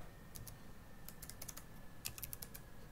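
Soft typing on a computer keyboard at a cluster PC running Ubuntu, scattered light key clicks in short bursts, quiet and close, with a faint steady electrical hum beneath and no talking.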